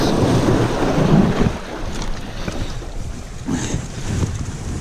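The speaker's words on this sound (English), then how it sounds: "Let's cross this creek to the other side." Rushing water and wind buffeting the microphone as a Quietkat Apex electric bike pushes through a swollen, flooded creek in the woods, with a steady low churn and splashing throughout.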